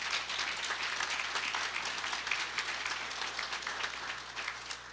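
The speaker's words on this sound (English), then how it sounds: "Let's give them a round of applause." Applause fills a hall at an Appalachian Regional Commission event in Kentucky, a broad, steady wash of many hands clapping at a moderate distance, continuous throughout with no speech over it.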